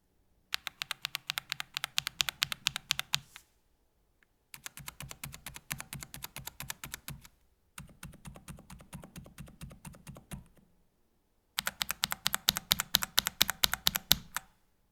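Close, crisp typing on a mechanical keyboard with tactile Holy Panda switches in four bursts, rapid clacky keystrokes separated by short pauses.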